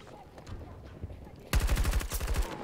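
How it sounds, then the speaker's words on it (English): Gunfire in the video game Battlefield 2042: after a stretch of quieter game ambience, a dense burst of rapid, loud automatic shots erupts and continues to the end. "There's two guys outside the fucking sector just shooting inwards."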